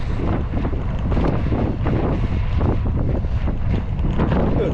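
Headwind blowing against a cyclist riding along the Daugava riverside promenade, heard as loud, steady, buffeting wind roar across the microphone.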